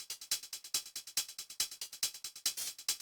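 Trap beat made in FL Studio with the membrane decay opened up: rapid, bright, hissy percussive hits that ring out longer and blend together in a driving rhythm, loud and unaccompanied by speech.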